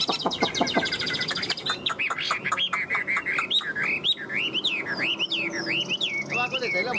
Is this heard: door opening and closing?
no